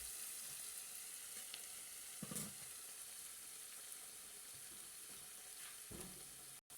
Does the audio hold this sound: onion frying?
yes